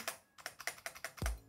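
Mechanical keyboard with a Realforce-like feel, keys pressed in a quick run of about eight close taps, ending in a deeper, heavier spacebar press at its edge with a faint wire stabilizer rattle.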